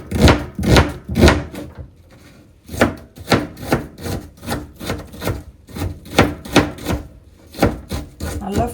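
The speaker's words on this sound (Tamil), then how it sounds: "நல்லா ஃபைனாக வெங்காயத்தை நறுக்கிக்கோங்க." A knife finely chopping onions rapidly on a wooden board, quick bursts of close, crisp cuts with a brief pause before the rhythmic chopping resumes.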